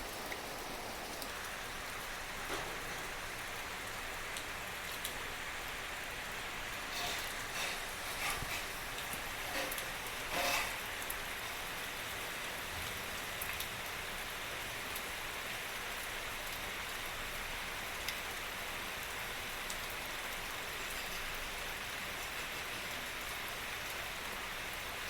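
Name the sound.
heavy rain falling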